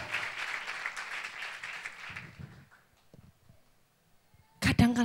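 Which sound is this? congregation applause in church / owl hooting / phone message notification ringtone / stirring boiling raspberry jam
congregation applause in church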